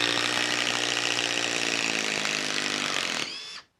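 A Makita XDT16Z cordless impact driver running on a full 4 amp hour battery, a loud continuous buzzing whine held for about three seconds before quickly spinning down to silence, close by.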